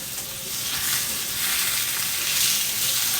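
Boneless pork chops fry in a pan with a steady, close crackling sizzle. The sizzle stays bright and even and swells slightly toward the end, with no voices.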